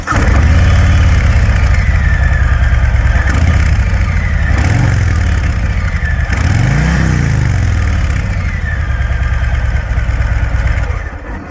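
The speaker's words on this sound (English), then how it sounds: "Startups are a joy, but exhaust notes are a lot softer." A 2021 Harley-Davidson Fat Boy 114 motorcycle idling with a soft, low exhaust rumble, loud and close, with a few brief throttle blips rising and falling in pitch over the steady idle.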